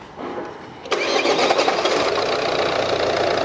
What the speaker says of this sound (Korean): 시동 한번 걸어봐봐.